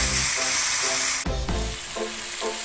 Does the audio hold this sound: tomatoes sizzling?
yes